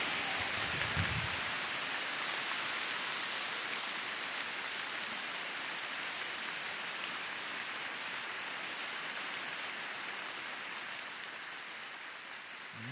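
Rain falls steadily and heavily outdoors, a dense, continuous hiss of drops that holds constant throughout with no talk over it.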